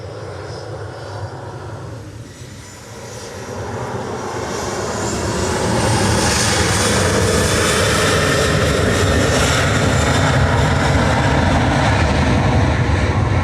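A Ryanair Boeing 737-800 departs Manchester Airport for Paris Beauvais, its jet roar swelling from a moderate rumble into a loud, sustained, rushing thunder.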